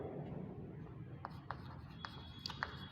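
Chalk or marker strokes on a board during a complex variables lecture, a few faint short taps and scratches spaced across the moment, beneath quiet background room noise.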